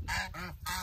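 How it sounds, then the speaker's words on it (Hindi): Ducks quacking while being fed grain, a quick run of three short nasal quacks close by, loud and alone. "ये ना मैंने दाने ले लिए हैं, अभी ना अपनी डक्स को डालते हैं हीरांजा को"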